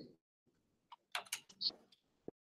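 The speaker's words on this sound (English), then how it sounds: "I was typing a little bit too fast for the speech" Keyboard typing on a computer used with assistive technology: a few quick, quiet clicks and taps in short bursts, mixed with brief electronic tones.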